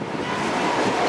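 Cold wind blows outdoors as a steady, fairly faint broadband rush that buffets the microphone, with no voices.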